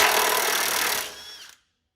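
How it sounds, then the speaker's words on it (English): A power tool whirs loudly and steadily while spinning out the last nut on a 2009-2014 Ford F-150 during a 6R80 transmission cooler line job, then winds down and cuts off abruptly. "you want to hold the bar with your hand nice and strong and zing it out"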